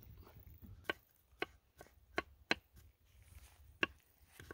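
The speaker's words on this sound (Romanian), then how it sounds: "Între timp am curățat și un usturoi, îl facem și pe ăsta mărunțel." A knife chops peeled garlic finely on a board, making six or so sharp, irregular taps spread over a few seconds against a quiet background.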